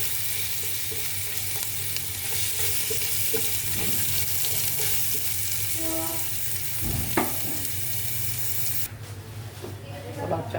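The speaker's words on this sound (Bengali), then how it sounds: "চালটা দিয়ে দিয়েছি তেলে ভেজে নেব পোলার চালটা" Pulao rice fries in oil with a loud, continuous sizzle and a low steady hum, stirred with a few clinks and scrapes before the noise drops off near the end.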